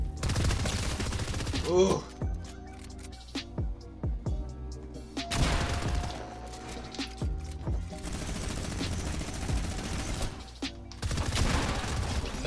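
Fortnite rapid fire SMG shooting, with scattered sharp shots and short bursts amid game clatter and crashes, fairly loud and close, while a voice briefly exclaims.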